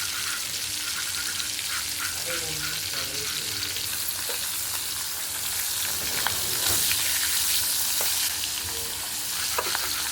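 A rohu fish head sizzles continuously in hot oil, a dense crackling hiss with faint scraping from the pan, steady throughout.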